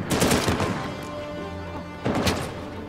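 Sniper gunfire in the video game Uncharted 4: two sharp, loud bursts of shots with ringing tails, about two seconds apart, with no talking.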